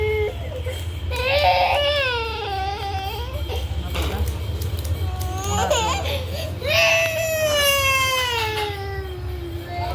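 Small child crying at home during a haircut, loud wailing sobs rising and falling in several drawn-out bursts close to the microphone, with an adult voice in the background.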